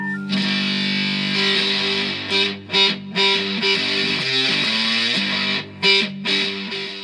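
A heavily distorted electric guitar plays sustained, buzzy chords with a few brief pauses, loud and close.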